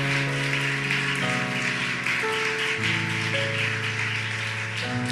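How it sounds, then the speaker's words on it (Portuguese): A church congregation claps for the Lord during a Portuguese-language sermon, with dense, steady applause running throughout under sustained organ or keyboard chords. "As palmas ao Senhor."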